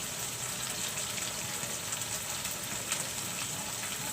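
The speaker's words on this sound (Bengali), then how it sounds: "আমি এখানে একটু তেজপাতা দিয়ে দিচ্ছি আর সামান্য একটু ঘি দিয়ে দিব" Bay leaves frying in ghee give a continuous, even, soft sizzling hiss that stays unbroken for a few seconds, with no talking.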